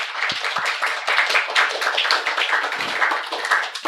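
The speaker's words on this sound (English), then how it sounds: "Nice round of applause for Balarama." A small crowd applauding nearby after a spiritual talk, a dense, steady patter of hand claps lasting a few seconds with no speech.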